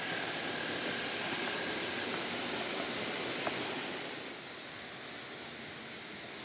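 Savage Falls in Savage Gulf, Tennessee roars as a steady broadband rush of falling water, close and constant, easing slightly in level toward the end with no voices.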